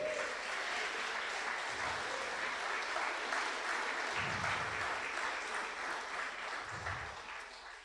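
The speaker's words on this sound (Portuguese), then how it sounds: "Podemos aplaudir o nosso Deus?" A congregation in church claps steadily for God, a thick, sustained wash of applause at moderate volume, with a few low thumps pulsing underneath and no clear talk.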